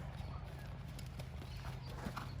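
Horse hooves beat softly at the canter during dressage schooling, a faint rhythmic thudding that sits under a steady low background hum, with no talk.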